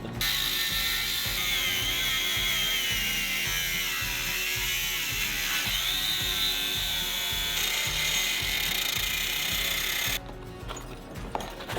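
Cordless angle grinder cutting metal tubing for a DIY solar arch on a sailboat, a continuous high whining grind with rhythmic chattering underneath that runs for about ten seconds before stopping abruptly.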